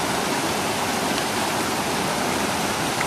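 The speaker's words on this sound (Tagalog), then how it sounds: "Gusto nyo po magpunta dito sa Donsulan Falls." Dunsulan Falls in Bataan roars as a steady, dense wash of falling water, loud and close, with no break or variation across the short stretch and no voices.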